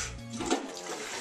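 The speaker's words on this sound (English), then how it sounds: "I need to do a courtesy flush." A toilet flushes nearby in one loud rushing burst of water that gurgles and swirls, with no talking.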